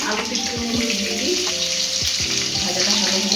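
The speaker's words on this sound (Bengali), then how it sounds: "তেল গরম হয়ে গেছে, এবার আলুগুলো ভেজে নিই।" Potatoes sizzle and crackle in hot oil in a kadai wok, giving a loud, continuous frying hiss with faint background noise.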